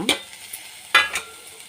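A spoon stirs a roasted powder and tamarind mixture into a bitter gourd stir-fry in a pan, making two distinct scraping clinks with light sizzling between them.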